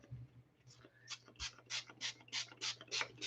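A spray bottle squirts starch about nine times in quick, steady succession, each a short soft hiss, close by and quiet.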